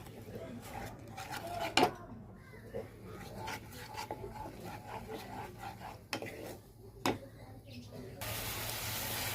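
Rui fish masala being stirred and fried in a pan, with quiet scraping and a couple of sharp metallic clinks of utensil on pan against a soft background hum.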